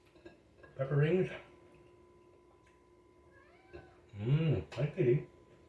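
Cats meow in a home kitchen during cooking, two distinct drawn-out meows close by, separated by a quiet stretch with a faint steady hum.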